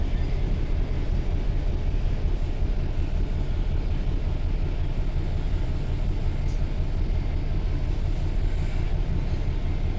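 A DRS Class 66 diesel locomotive runs under low throttle in a train simulator game, a continuous deep engine rumble with steady low drone and no pauses, close and even throughout without voices.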